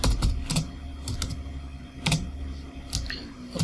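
Python code is typed on a computer keyboard in sparse, separated keystrokes and short clusters of clicks over a faint steady hum, with no voices.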